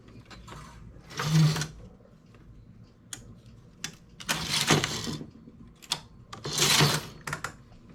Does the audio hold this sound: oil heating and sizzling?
no